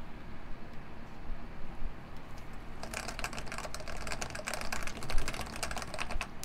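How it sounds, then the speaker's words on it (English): Fast, steady typing on a computer keyboard with its bottom case attached, a dense run of crisp clacks that starts faintly and grows louder and brighter partway through, heard alone without speech. "remember that sound earlier when I was doing that typing with the bottom? Here it is with the bottom, by the way."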